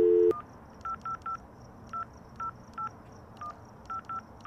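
Telephone keypad tones in the horror video game Mom's Tent: about a dozen short, evenly spaced electronic beeps as a number is dialed, clear and moderately quiet, with no talk over them.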